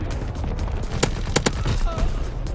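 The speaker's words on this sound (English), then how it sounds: "Incoming enemy artillery. Get to cover." Incoming enemy artillery and gunfire in Call of Duty WWII: a busy backdrop of battle noise, with a few sharp, loud gunshot cracks standing out near the middle.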